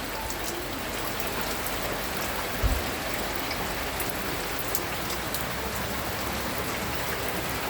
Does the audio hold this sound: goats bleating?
no